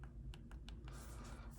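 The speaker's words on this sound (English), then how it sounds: "You can hear the clicking." Sharp plastic clicks from the buttons of a JSAUX Ringlax case on an iPhone 15 Pro Max, about five quick separate presses in a row, close and fairly quiet, followed by a soft rustle of handling.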